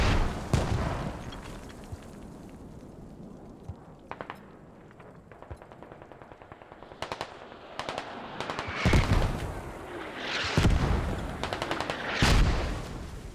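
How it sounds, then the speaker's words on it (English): A mortar barrage pounds a battlefield in the video game Squad: half a dozen heavy explosions land a few seconds apart, some near and loud, others muffled and distant, over faint crackling, with no speech. "Just mortars are still going off."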